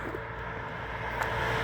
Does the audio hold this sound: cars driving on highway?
yes